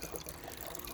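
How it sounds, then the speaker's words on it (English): A small garden water fountain trickles steadily outdoors, a soft, continuous splashing and dripping at close range with no voices. "replaced him with my little water fountain"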